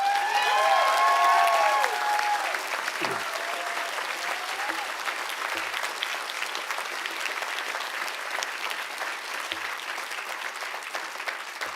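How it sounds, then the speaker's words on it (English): Sustained audience applause for the organizing team at a health sciences class day ceremony, dense steady clapping from a large crowd with a few whoops and a voice at the start, carrying on evenly for many seconds. "we just give them a big round of applause"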